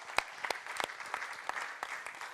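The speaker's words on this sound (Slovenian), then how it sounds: "en velik aplavz za enkrat" Audience applause at a tourism fair in Dolenjske Toplice, a short burst of scattered hand claps with sharp individual slaps rising over a steady clapping wash, heard close and moderately loud with no talk.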